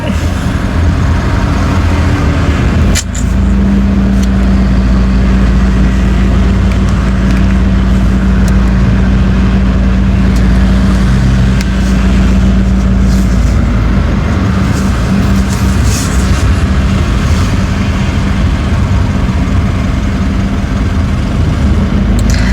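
Cars sit in a traffic jam, a constant loud rumble of engines and road noise with a low steady hum, after one sharp knock near the start.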